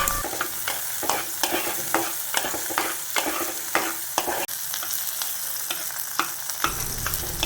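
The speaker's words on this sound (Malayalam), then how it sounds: "ഇനി നമുക്ക് ഈ പച്ചമുളകും തക്കാളിയും കൂടി നന്നായിട്ടൊന്ന് വഴറ്റിയെടുക്കാം." Green chilies and tomatoes sauté in a pan for drumstick leaf curry, giving a continuous close sizzle with regular scraping strokes of a spoon stirring throughout, and no talking.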